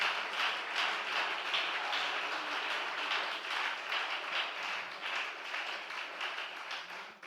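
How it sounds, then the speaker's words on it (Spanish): Congregation applauding during a Spanish-language church service, a sustained wash of many hands clapping at moderate distance, even and continuous for about seven seconds with no voices on top. "Dele ese aplauso fuerte al Señor."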